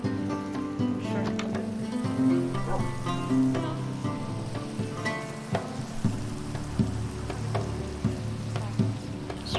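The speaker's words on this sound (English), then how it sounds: "It's rain." Rain falls in a video game as a steady, even patter that runs throughout beneath sustained tonal background sounds.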